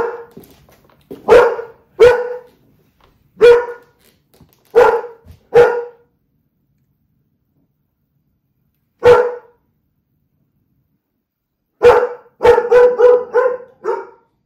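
A dog barks close and loud in short, sharp single barks spaced irregularly across the stretch, with a long pause and then a rapid cluster of barks near the end.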